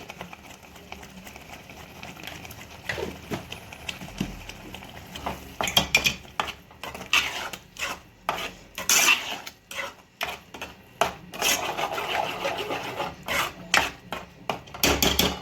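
Spoon scraping and clanking against a pan while masala curry with tomato puree is stirred, irregular metallic knocks and scrapes in quick bursts over quiet kitchen background.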